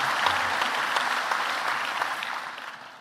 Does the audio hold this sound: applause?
yes